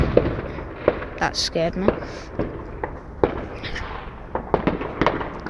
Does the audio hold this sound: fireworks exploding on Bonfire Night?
yes